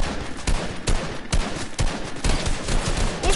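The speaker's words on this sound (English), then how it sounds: "I'm gonna shoot him." Gunfire in the video game Fortnite: rapid repeated shots crack in quick succession, loud and close, as a steady fusillade with a few heavier reports and no talking.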